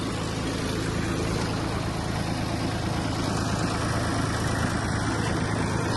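A Kubota A-195 Japanese mini tractor engine runs steadily under throttle with its PTO-driven blades turning, producing a loud, continuous mid-pitched drone that holds even throughout without a break.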